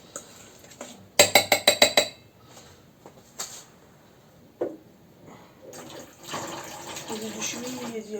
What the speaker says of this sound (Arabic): نديرو شويه ديال الماء